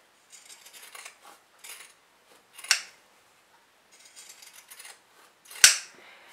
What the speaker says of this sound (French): je prends mes ciseaux cranteurs et je vais enlever l'excédent de tissu tout en faisant attention de ne pas découper bien évidemment ma couture